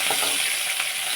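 Curry leaves and green chillies crackle and sizzle in hot oil while making upma, a steady close frying hiss with small pops throughout and no voices.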